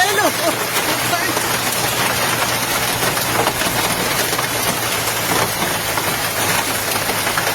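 Hail pelts a road during a hailstorm in Bocaue, Bulacan, a dense, constant hiss and patter that stays loud and even, with a low engine hum underneath.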